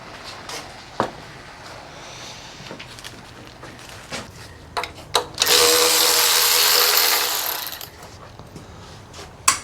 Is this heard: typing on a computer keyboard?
no